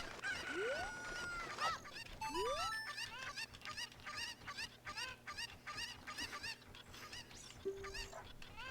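Chickens cluck and squawk in a Zelda game, a busy run of rapid clucks with a few rising whistling calls layered on top, steady and close throughout.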